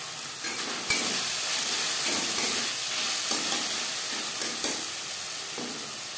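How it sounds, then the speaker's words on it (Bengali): Sago khichuri with peas sizzles steadily in a pan while a spoon stirs it, scraping now and then against the metal under a constant frying hiss. "দু 3 মিনিট নাড়াচাড়া করে নেওয়ার পর দিয়ে দেবো মটরশুঁটি"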